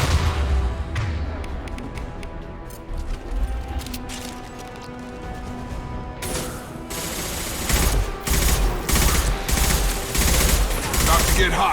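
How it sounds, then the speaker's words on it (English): Mass Effect 2 combat: rapid bursts of gunfire and a concussive shot crackle in dense, overlapping volleys, loud and close, over game music and ambience. "Concussive shot!"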